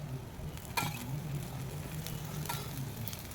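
Oil sizzling on a pesarattu dosa topped with onions on a hot griddle, a quiet steady sizzle with a couple of brief spatula taps, close and low in level.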